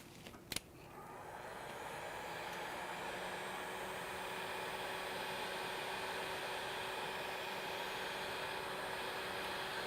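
A heat gun blows a steady, loud, broadband hiss over freshly painted metal rooster yard art, drying the wing strokes; a brief click opens the clip before the constant airflow settles in.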